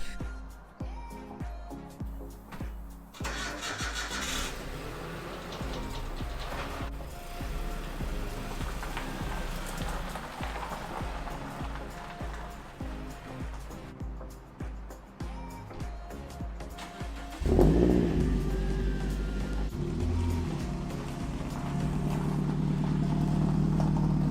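A Toyota Corolla being fitted with coilovers runs with a steady low rumble and hiss, then surges louder near the end as it starts off and drives into a garage.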